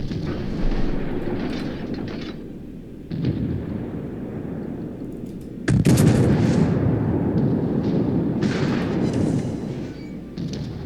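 Heavy naval gunfire in the World of Warships video game, with booming salvos and rumbling blasts layered over a constant loud battle din.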